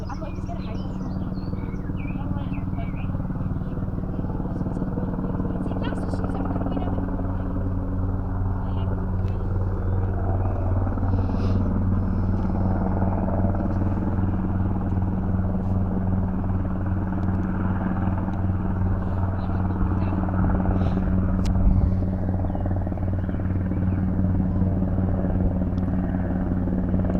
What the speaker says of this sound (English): Rescue helicopter taking somebody to the hospital.